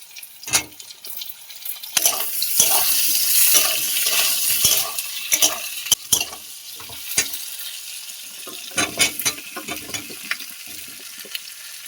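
Pointed gourd and potato chunks frying in a pan with already-browned onion, for a simple fish curry; a steady sizzle swells and fades with sharp scraping stirs and clinks near the mic, no talk.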